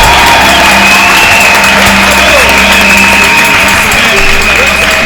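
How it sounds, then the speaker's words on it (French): A church congregation cheers and applauds together in a loud, sustained roar of clapping mixed with whoops and shouts that holds steady throughout. "Est-ce qu'on peut entendre les acclamations de ceux qui aiment cette nation?"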